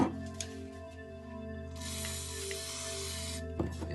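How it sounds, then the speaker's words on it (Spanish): Compressed air blasts a steering rack bearing clean in a workshop during a power steering box repair, a steady broadband hiss running about two seconds over a constant low machine hum, with a few sharp clicks nearby. "El rodamiento lo vamos a soplar y lo vamos a limpiar bien."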